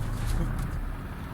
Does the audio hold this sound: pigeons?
yes